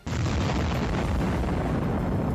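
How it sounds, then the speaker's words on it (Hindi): Missile strike blast on a Russian tank in the Russia-Ukraine war, a sudden loud boom that rolls into a sustained roaring rumble, with no talk. "यूक्रेन की सेना ने रूसी टैंकों को मिसाइल से निशाना बनाया"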